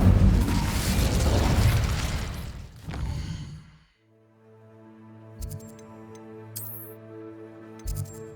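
A spell blast in a fantasy video game, a loud burst of roaring, crackling fire that swells for about three seconds, then breaks off into quiet tonal background music with a few short chimes.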